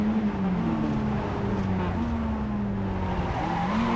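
A Spec Miata engine in the iRacing sim at Homestead-Miami, running steadily with the clutch held in. It gives a continuous, fairly loud drone that shifts in pitch only slightly across the few seconds, with light tire noise underneath and no talk.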